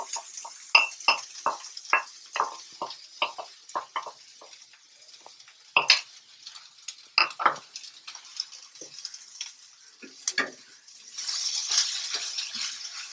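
Spatula stirring lentil paste with radish greens in a wok, a series of sharp scraping and tapping hits in uneven rhythm, close and fairly quiet, with a hiss of sizzling near the end.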